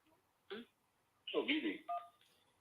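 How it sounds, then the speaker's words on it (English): Telephone dialing tones for an incoming call: a few short electronic beeps in separate bursts, clear and moderately loud against a quiet background, with no voices. "We have a phone call."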